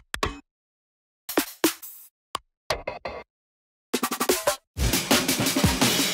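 A drum and bass drop fill programmed in FL Studio, in the melodic style of Arcando and Vluarr: scattered short drum hits and bursts separated by gaps, then a dense run of rapid hits building into a loud, sustained wash of sound at the end.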